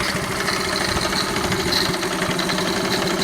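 A 1971 Honda CT70 motorcycle engine with a new carburetor idles steadily and close by for a few seconds, its fast, even putter alone with no talking.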